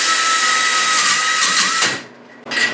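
A rotary tool spinning a small burr bit against metal on a RZR Pro XP front shock mount gusset job, a loud high-pitched whine grinding steadily, briefly dropping off, then spinning back up.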